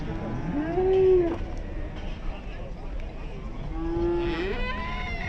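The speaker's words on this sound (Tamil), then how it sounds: "இங்கே பாருங்க எவ்வளோ மாடுங்க இருக்குன்ட்டு." Cattle at a Kyrgyzstan animal market give two drawn-out moos a few seconds apart, over steady crowd noise and someone talking nearby.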